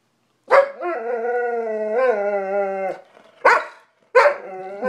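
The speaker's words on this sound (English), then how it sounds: "Now you're barking at me, too?" A dog howls in a long drawn-out wail, then lets out two short sharp barks, loud and close, with no voices.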